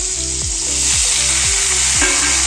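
Dried red chilli and panch phoron frying in hot oil in a kadai give a steady, close, loud sizzle, with soft rhythmic stirring strokes about every half second.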